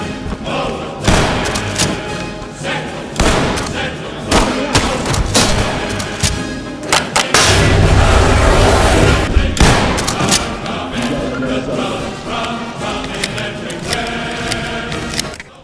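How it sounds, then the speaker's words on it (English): A Remington 870 pump-action shotgun fired in the tactical shooter game Ready or Not: loud, repeated booming shots with heavy thuds and mechanical clatter, dense and close, one extended rumbling stretch in the middle. "What we do have is a very capable pump-action shotgun in the game, the Remington 870."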